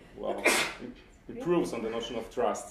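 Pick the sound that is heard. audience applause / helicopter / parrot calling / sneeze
sneeze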